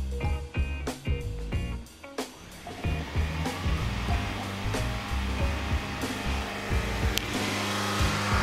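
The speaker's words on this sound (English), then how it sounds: "This is a hybrid, so I'm gonna use a pedal depressor to hold the vehicle in high RPM so we can get a waveform." A hybrid car engine is held at high revs by a pedal depressor during diagnosis of a P0365 cam sensor fault, giving a loud, steady whirring drone with a few faint knocks early on.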